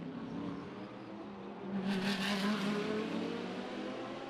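GT race cars at the Macau street circuit, engines droning steadily then swelling with a louder burst of acceleration midway, a continuous mid-distance roar with no talk.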